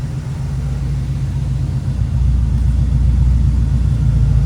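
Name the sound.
1984 Chevrolet Monte Carlo SS engine running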